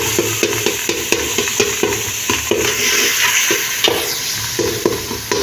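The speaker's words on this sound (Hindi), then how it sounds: "इसको अच्छे से भून लेंगे।" A spice mixture with salt is stir-fried in a pan. A steady oily sizzle runs under rhythmic scraping strokes from the stirring, with no talking.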